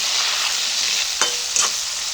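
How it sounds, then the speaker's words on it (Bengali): Radish, carrot and turnip chunks frying with salt and turmeric in a hot pan, with a steady close sizzle broken by two brief stirring scrapes near the end, no voices. "মূলো, গাজর, শালগম, পরিমাণ মতো লবণ, সামান্য পরিমাণে হলুদ গুঁড়ো। ভালো করে ভেজে নেব।"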